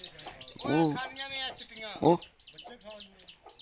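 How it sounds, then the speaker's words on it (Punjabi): A hen's young chicks chirp in a run of small, high, repeated peeps, faint and steady beneath a man's close, loud talking. "ਚੂਚਿਆਂ ਦੀ ਆਵਾਜ਼ ਆਉਂਦੀ ਜੇ ਪਈ"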